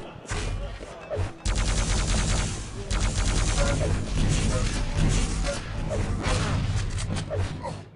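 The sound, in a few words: Quake Live lightning gun and railgun fire, video game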